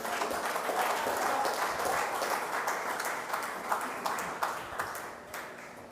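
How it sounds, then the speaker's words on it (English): Applause fills a town hall meeting: a steady wash of clapping from the audience that gradually thins toward the end, a few sharper individual claps standing out at the close. "Can we give her another round of applause, please?"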